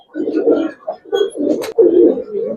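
Giribaj pigeons in a tournament loft cooing close and loud, a run of throaty rolling coos in bursts with short pauses between.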